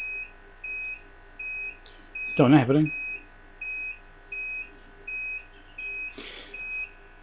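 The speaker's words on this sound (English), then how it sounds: "I think the most annoying thing right now is the beeping" Steady electronic beeps repeat at an even rhythm on a repair bench, clear and fairly close, while someone speaks briefly over them.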